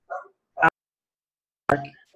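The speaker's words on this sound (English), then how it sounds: "the dog is barking" Happy dog barking at dinner time indoors: a few short, sharp barks spaced apart with silence between them, close and fairly loud.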